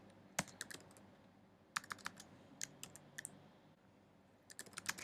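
Router configuration commands are tapped out on a computer keyboard in quiet, irregular bursts of crisp keystroke clicks separated by short pauses, close and faint in an otherwise still room.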